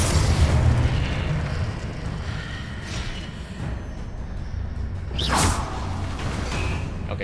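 A Confringo blasting spell cast in Hogwarts Legacy, heard as a sharp whooshing burst with a booming impact over a dense rumbling game background, with a smaller swish earlier on.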